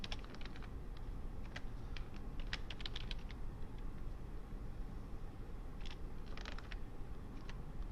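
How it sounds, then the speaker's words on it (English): Typing a password on a computer keyboard comes through as quick clusters of light key clicks, with a burst early on and another a few seconds later, faint and close over a steady background hiss, with no talk. "Type in a password for him."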